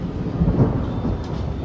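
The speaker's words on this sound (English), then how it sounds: "Thunderstorm!" Thunder rolls through a heavy thunderstorm, a deep sustained rumble over steady rain, loud and close with no voices.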